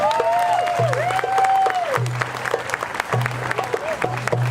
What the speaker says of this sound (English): give a round of applause for the Florida manatee